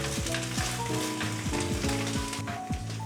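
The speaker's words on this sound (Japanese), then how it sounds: "解凍時に出る水分をできる限り飛ばすように強めの中火で炒める" Food for frozen diet bento boxes is stir-fried over strong medium heat, giving a loud, continuous close sizzle while steady tonal music plays underneath, with no talking.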